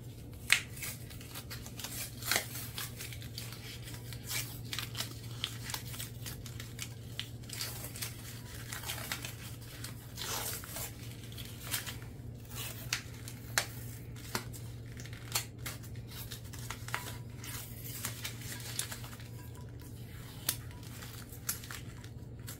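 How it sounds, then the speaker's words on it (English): Packaging torn open by hand at a market booth, a long run of crinkling, ripping and rustling with frequent short sharp tears and crackles over a steady low hum. "sometimes if that does not work, I just like to go ahead and just start ripping it"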